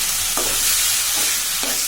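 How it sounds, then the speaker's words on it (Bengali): Potato and carrot pieces are stirred in hot oil in a pan, a steady close sizzle with a few scraping stirs of a spatula, short and without talk. "এই যে এটা একটু নেড়ে চেড়ে নিতে হবে তেলে।"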